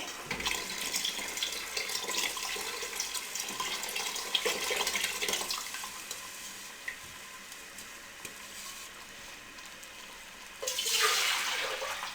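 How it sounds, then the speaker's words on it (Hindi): Water pours and splashes steadily into a cooking pot, two bowlfuls, then a louder rush of pouring near the end. "अब इसमें 2 कटोरियाँ पानी की भी इसमें डाल दें।"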